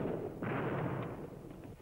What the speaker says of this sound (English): distant Viet Cong or main force positions were shelled from fire